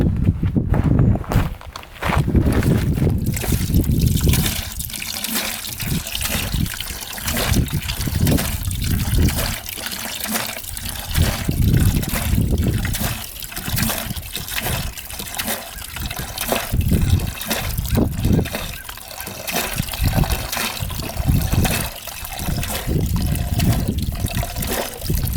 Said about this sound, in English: So we'll just siphon this all out.